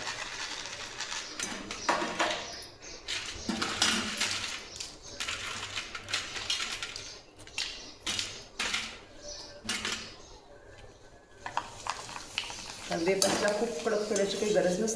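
Thin potato wafers crackle and sizzle in hot oil after the gas has been turned off, a steady dense frying hiss with scattered sharp pops and faint stirring, no talk.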